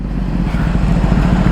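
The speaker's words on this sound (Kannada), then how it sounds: "ಒನ್ ಮೋರ್ ರೇರ್ ಬೈಕ್ ಬರ್ತಾ ಇದೆ." A rare sports motorcycle draws near on an open road with a loud, steady engine drone and throbbing low rumble that holds constant throughout, with no voices over it.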